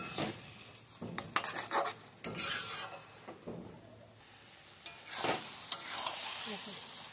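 Bombay duck (lote) fish being mixed by hand in a metal bowl makes wet squishing and rubbing, with intermittent scrapes and soft clinks of the bowl, close and moderately loud, no talking.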